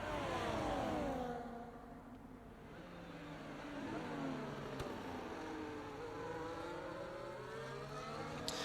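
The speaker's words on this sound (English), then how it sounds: "I just can't listen to that Ferrari engine." Ferrari racing car engines in a video game Formula 1 race in Bahrain whine and rev at high pitch, rising and falling as they shift gears, fairly steady and moderately loud throughout.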